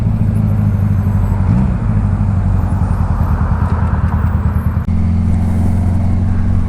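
A motor vehicle idles loudly nearby with a steady low rumble, its pitch briefly shifting as it pulls away, then settles into a continuous drone.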